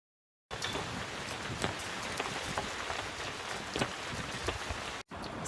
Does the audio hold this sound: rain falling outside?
yes